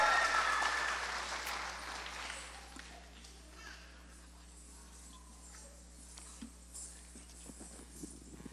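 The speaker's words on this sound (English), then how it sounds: "Give them one more round of applause" An audience claps for a Bharatanatyam-trained group dance at a talent competition, with dense applause at the start that fades out over about three seconds, leaving a quiet room with faint scattered sounds.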